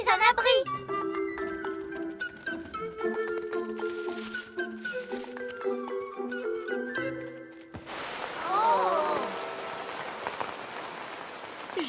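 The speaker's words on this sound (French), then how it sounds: "on dirait qu'il va bientôt pleuvoir" Cartoon rain sound effect from a children's animated series about a cat family: a steady hiss of falling rain arrives after a stretch of music, with a character's voice speaking over it.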